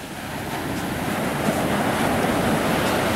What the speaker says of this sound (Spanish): apreciar estas hermosas olas